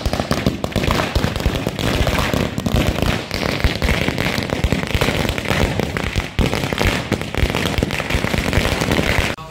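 Firecrackers go off at a gurdwara during a Gurpurab celebration in Srinagar, a dense, loud, rapid string of crackling pops and bangs running without a break for nearly ten seconds.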